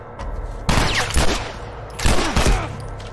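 Loud bursts of rapid gunfire in The Last of Us video game in two clusters, with sharp cracks and ricochet-like whines, no speech.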